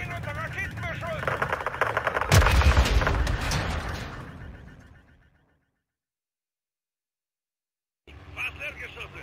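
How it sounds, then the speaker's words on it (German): Rocket and gun fire in the Call of Duty: Modern Warfare II video game, a loud burst of blasts and shots under radio-style speech, fading out before a silent gap and then a return of game noise. "Stehen unter Raketenbeschuss!"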